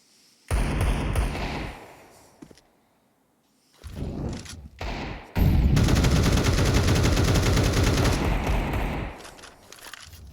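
Counter-Strike gunfire from Tec-9 and Desert Eagle pistols in a professional match, loud rapid bursts of shots, a short volley, a pause, then a long sustained barrage that fades near the end.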